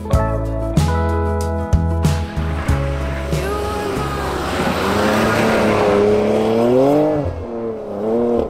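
Warmed-up car engine in icy mountain surroundings, revved hard several times. Pitch climbs and falls in repeated sweeps between sharp blips and sustained roars, close and loud, with no voices.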